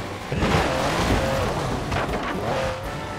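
A Mercedes G-Wagon 6x6 driving in Forza Horizon 4, its engine a steady, loud roar throughout with some tire noise.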